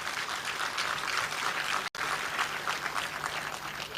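A crowd claps steadily in a dense, even patter at a company's 75th anniversary celebration, with a brief cut partway through, then the applause goes on.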